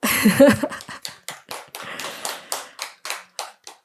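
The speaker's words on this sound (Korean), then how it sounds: "박수!" Evenly spaced single claps ring out in a steady rhythm for a few seconds after a brief spoken word, fairly close and crisp, during a Buddhist monk's dharma lecture on the Diamond Sutra.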